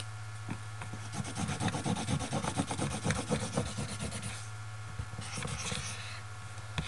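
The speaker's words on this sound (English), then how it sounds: "take a sheet of paper, scribble on it in a light color like yellow" Light yellow color scribbled back and forth across a sheet of paper, a dense run of scratchy strokes that pauses briefly near the end and resumes, close up over a low steady hum.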